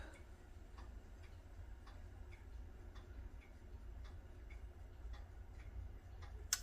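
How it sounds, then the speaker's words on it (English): A small clock ticks steadily and faintly in a quiet indoor room, with a low hum underneath. "my little clock."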